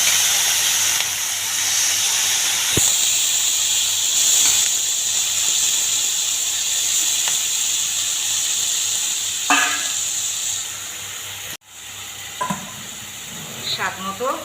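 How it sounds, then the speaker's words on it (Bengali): Prawns sizzle in a hot pan with a steady loud hiss. Scattered stirring clinks and scrapes sound through it, and a brief gap comes near the end. "এবার আমি প্রন এতে দিয়ে দিচ্ছি।"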